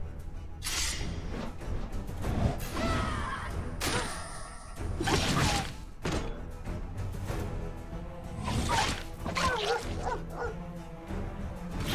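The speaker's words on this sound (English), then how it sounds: "All of them are dogs." Dogs barking in the Stoneshard video game, several loud, sharp barks and yips in bursts amid thuds and whooshing combat sounds.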